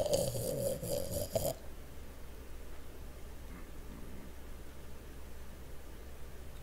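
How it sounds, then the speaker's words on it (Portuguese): An old man's snoring in the video game GTA San Andreas, a loud rasping burst for the first second and a half, then fading to a faint low background hum. "Ó, só os roncos do véio"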